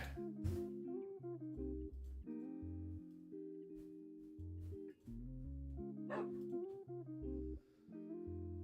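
A dog barks in the Minecraft video game, a couple of short sharp barks standing out over a steady, tuneful musical background.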